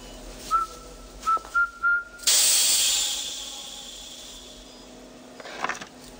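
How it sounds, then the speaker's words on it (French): Someone whistles a few short tune notes, the opening of Rule Britannia, then a loud burst of gas hisses from a concealed stunning device in a Q-branch gadget lab, fading slowly over several seconds. "sifflez les premières mesures de Rule Britannia."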